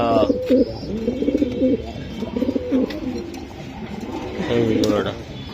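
Racing pigeons, giribaz birds offered for sale, coo in low throaty bursts that rise and fall close by, with voices talking among the birds.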